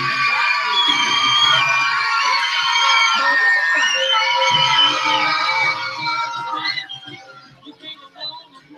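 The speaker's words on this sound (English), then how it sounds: "We've got the Pizza House pizza toss going on. It's getting the crowd fired up." A softball crowd at a Michigan vs. Michigan State game cheers during the Pizza House pizza toss, with loud sustained whoops, children's shrieks and yelling that fade over the last few seconds.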